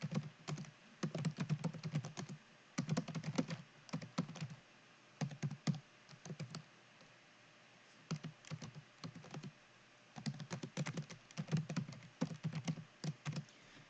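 Typing on a computer keyboard while entering data into accounting software: quick clusters of soft clicking keystrokes with short pauses between bursts, close and fairly quiet, with no talking.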